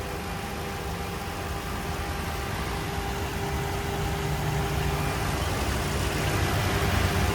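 A 2003 Toyota Sequoia SR5's 4.7-liter naturally aspirated V8 idles steadily, a constant low rumble with an even mechanical hum and no revving, heard alone.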